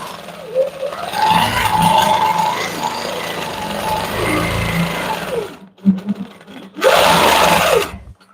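A quilting machine stitches a swirl along a line of pebbles, running as a loud, steady mechanical whir that pauses briefly and then starts up again.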